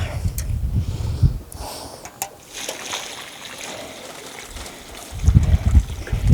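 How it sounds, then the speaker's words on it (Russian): Water trickles and splashes steadily into a freshly dug garden planting hole for several seconds, with brief low rustling thumps at the start and end. "Сейчас хорошо туда воды налить надо. Промочить ее."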